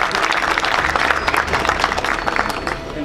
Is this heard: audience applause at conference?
yes